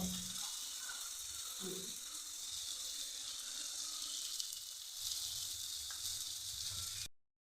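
Spices sauté in a pan at home during Bengali cooking, giving a soft, continuous sizzle with faint clinks that runs for several seconds before cutting off abruptly.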